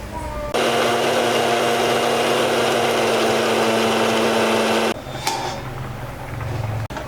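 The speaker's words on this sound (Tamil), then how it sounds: "இப்போ போய் நம்ம தேங்காய் அரைச்சிக்கலாம்." A kitchen mixer grinder whirs loudly and steadily while grinding coconut for a Tamil kovakkai kuzhambu, running for several seconds before cutting off, followed by quieter kitchen clatter.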